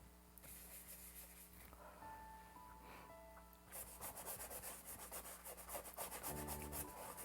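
Brush scrubbing paint onto a collaged painting, a faint dry rhythmic rubbing that grows busier and scratchier partway through, close and quiet over a low background hum.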